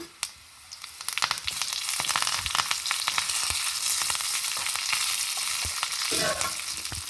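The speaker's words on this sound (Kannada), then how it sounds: "ಸಾಸಿವೆ ಹೊಡ್ತಾ ಇತ್ತಲ್ಲ, ಈಗ ಬೇವನೆಲ್ಲ ಹಾಕೊಂಬ." Curry leaves drop into a sizzling mustard seed and dried chilli tempering for Andhra-style raw mango pappu, bursting into loud close crackling and spattering that stays dense and steady, with no talk.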